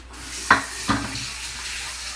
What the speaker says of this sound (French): je me lave les mains